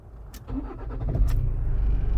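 Car engine cranking and catching, with a few quick starter turns and clicks before the motor fires into a low, steady idle rumble, close by and with no talking.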